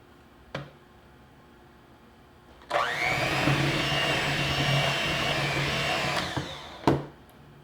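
An electric mixer beats macadamia nut cookie dough as flour is worked in. After a click, the motor whirs loudly and evenly for several seconds, then stops with another sharp knock, in a quiet kitchen.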